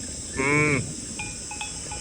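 A single short, close moo from a cow, followed by faint scattered tones in the background.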